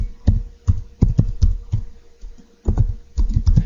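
Someone types on a computer keyboard, entering a spreadsheet cell heading with close, crisp key taps. The taps come in quick clusters, pause briefly and then resume.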